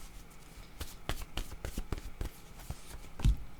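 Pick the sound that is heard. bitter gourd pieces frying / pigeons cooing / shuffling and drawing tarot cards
shuffling and drawing tarot cards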